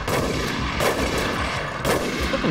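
Gunfire in a Resident Evil action game, a dense continuous barrage of shots and blasts with a few heavier bursts standing out over roughly two and a half seconds, loud and with no voices.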